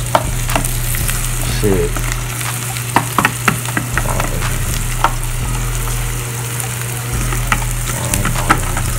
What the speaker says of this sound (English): You gotta caramelize your onions like this